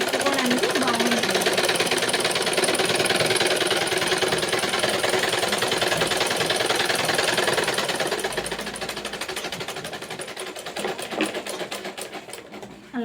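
A sewing machine stitches a blouse, running in a fast steady mechanical rattle that eases slightly toward the end, close and loud without pauses.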